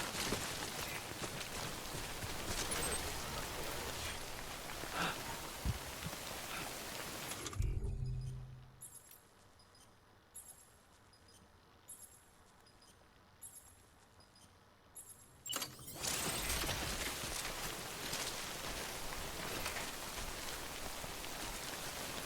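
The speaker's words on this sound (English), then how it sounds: "Timefall basically ages stuff that it hits." Timefall rain in Death Stranding pours steadily as a dense, close hiss of raindrops on surfaces, cutting out abruptly for several seconds to a quieter interior with faint clinks, then returning just as loud.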